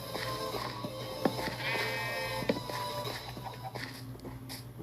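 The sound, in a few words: sheep bleating in Minecraft video game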